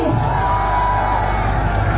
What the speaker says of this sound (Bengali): রানা শেখের জন্য একটা জোরে করতালি।